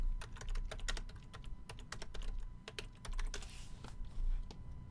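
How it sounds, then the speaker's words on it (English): Rapid typing on a computer keyboard, close and fairly loud, with uneven bursts of clicky keystrokes over a low steady hum and no talking. "Let me just type it in."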